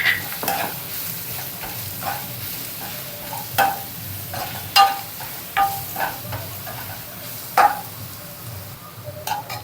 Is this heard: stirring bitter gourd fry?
yes